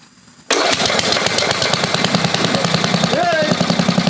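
An 8 hp Briggs engine on a 1988 Caldor MTD lawn tractor catches after a quiet moment and bursts into a loud, rapid, chugging run, its revs rising briefly under some background talk.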